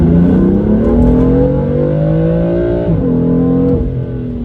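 A BMW M3 F80 accelerates hard with a loud, close engine note climbing steadily in pitch, then briefly drops at a gear change and climbs again, no talking over it.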